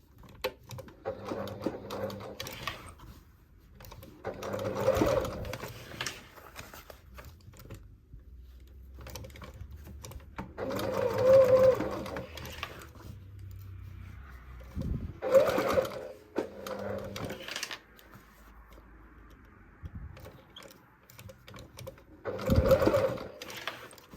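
A sewing machine stitches thread diagonally along the twill face of a denim jacket collar, running in several separate bursts with short pauses between them, close and fairly quiet.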